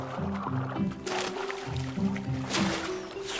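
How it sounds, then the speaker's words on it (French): Water splashed and churned by hand beside fishing cormorants from a small boat in China, with a few sloshing bursts over a steady low tonal hum. "On agite l'eau et on les éclabousse pour les stimuler."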